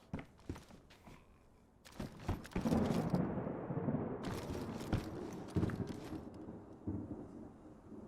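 Thunder after a lightning strike in DayZ's Livonia map: a heavy, broad rumble swells in after a few sharp cracks and rolls on for several seconds, fairly loud against quieter game ambience.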